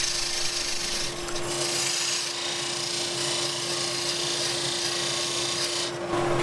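Chisel cutting a walnut ring box spinning on a wood lathe, a steady close scraping rasp with a constant motor hum beneath, running evenly for the whole stretch with a brief dip near the end.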